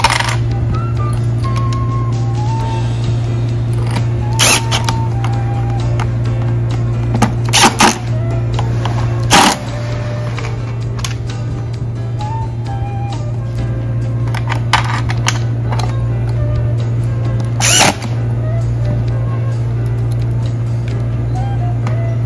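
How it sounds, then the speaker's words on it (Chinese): Screws are driven into a BMW M5 children's electric ride-on car during assembly, heard as scattered sharp clicks and plastic knocks over a steady low hum, with occasional speech. "然后后面这个给它螺丝锁上去哈"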